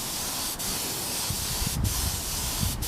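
Steady close hiss of a spray paint can applying light coats of gold paint onto wheels, continuous for a few seconds with a couple of brief dips.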